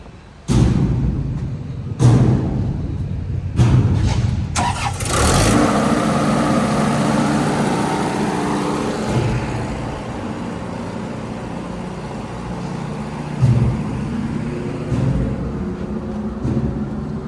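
A diesel generator powering a refrigerated shipping container's 460-volt three-phase machinery is cranked in several bursts, then catches and settles into a loud, steady running drone, heard alone with no talk.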